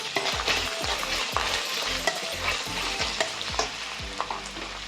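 Spiced masala for stuffed brinjals sizzles and fries in a pan, with repeated scraping stirs at an uneven rhythm, close and steady with no voices.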